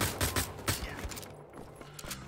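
Rapid bursts of gunfire from Wolfenstein: The Old Blood, with the loudest volleys near the start and a steady crackle of shots and game effects continuing throughout.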